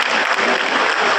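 A crowd at an outdoor political event in Delhi applauds loudly and steadily, dense clapping close by with no pause for the whole moment.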